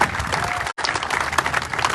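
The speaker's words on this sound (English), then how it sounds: "Let's give them a round of applause again for not leaving us and always believing in the future of our town" Crowd applause at a San Pedro West Harbor groundbreaking ceremony, a steady wash of clapping with a brief cut in the middle, then continuing at the same level.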